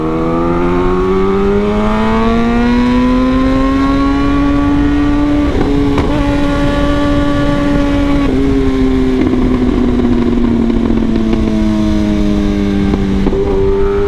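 A Kawasaki motorcycle is ridden with its engine droning loud and steady throughout, the pitch rising and falling through gear shifts under constant wind and road noise.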